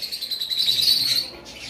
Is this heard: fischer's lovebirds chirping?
yes